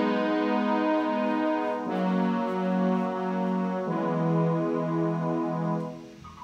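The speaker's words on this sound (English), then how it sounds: "play you a bit of the synth brass that I added in the background" A synth brass part from a homemade beat plays alone as sustained chorused chords, changing about every two seconds, smooth and moderately loud before fading out.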